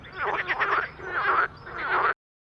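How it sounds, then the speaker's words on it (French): Frog croaking in a pond on a calm night, a close, fairly loud series of raspy, buzzing calls in short bursts with a brief pause between them before stopping. "La grenouille chante dans la mare quand tout est calme."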